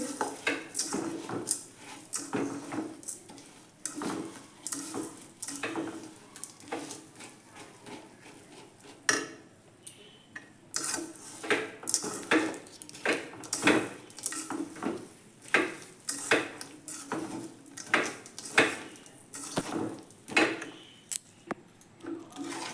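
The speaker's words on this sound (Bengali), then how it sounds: "এবার আমি অল্প অল্প করে নেড়ে যাচ্ছি" Sugar caramelizing in a pan for papaya laddoo is stirred in small repeated strokes, a quick run of close metallic clinks and scrapes over a faint sizzle, busy and uneven throughout with a short lull midway.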